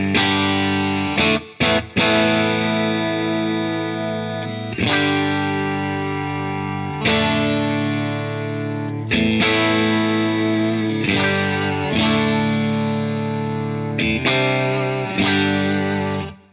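Electric guitar through a Wampler Ego 76 compressor pedal, an 1176-style unit: loud strummed chords ringing out evenly with long sustain, several strikes in a slow rhythm, thick and smooth, with no talking.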